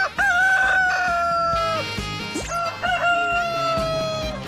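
A rooster on a chicken farm crows loudly and close by in two long, drawn-out calls, with lower clucking from other chickens under and between them.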